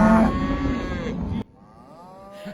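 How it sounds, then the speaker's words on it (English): Cattle moo loudly and close by, a long low lowing followed by a fainter second moo, with no talk over them. "Some good cow sounds there"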